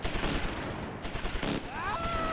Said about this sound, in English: Go ahead and shoot.